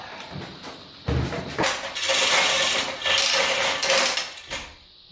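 A loud, close mechanical ratcheting clatter from a Kobalt pneumatic hose reel, rapid clicking pawls in bursts of grinding rasp that stop and start, no talking.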